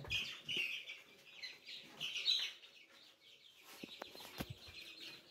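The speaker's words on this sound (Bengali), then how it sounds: "দেখেন মুরগিগুলা পানি খাইতেছে আগে" Chickens on a poultry farm cluck and chirp steadily at close range, with busy overlapping bird calls and a few sharp pecking clicks near the end, no talking.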